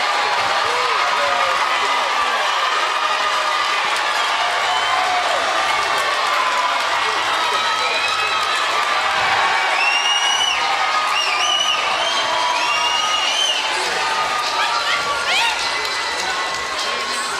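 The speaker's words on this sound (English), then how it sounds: "And the crowd just loving it." A boxing arena crowd roars and cheers after a knockout in a women's 168-pound championship fight, a dense, loud, continuous wall of noise with commentators talking over it.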